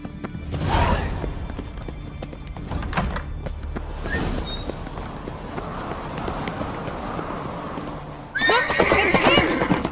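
A horse whinnies loudly near the start in The Witcher 3, followed by galloping hoofbeats and rumbling motion, with another whinny bursting in near the end.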